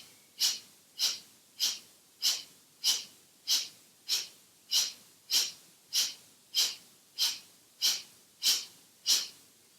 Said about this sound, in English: We will be blowing out first through the right nostril.